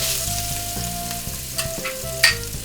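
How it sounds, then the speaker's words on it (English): Crushed garlic, about four cloves, fries in hot cooking oil with a steady, close sizzle. Faint tonal hums run underneath, and a few brief scrapes and clinks of stirring break through near the end. No one speaks. "we're gonna go ahead and brown our garlic"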